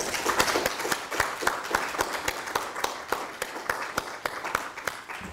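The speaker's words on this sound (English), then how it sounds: "could I ask for a round of applause for my wonderful guests?" A small group claps with distinct, fairly regular hand claps, moderately close and steady throughout.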